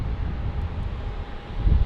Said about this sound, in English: It's a little windy up here